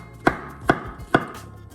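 A knife chops button mushrooms in half on a cutting board, three crisp evenly spaced thuds about half a second apart, close and clear against a quiet room.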